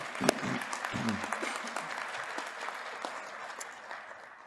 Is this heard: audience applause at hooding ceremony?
yes